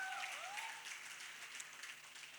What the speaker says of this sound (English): I'd like to hear a round of applause for a man.